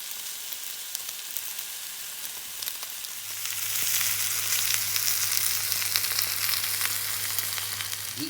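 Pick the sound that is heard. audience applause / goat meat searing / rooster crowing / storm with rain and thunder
goat meat searing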